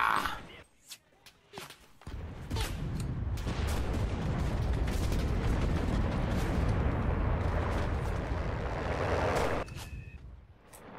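Artillery fire in the World War II video game Enlisted during the Battle for Berlin: a few sharp cracks, then a long, loud, continuous roar of shelling and rumble that fades near the end.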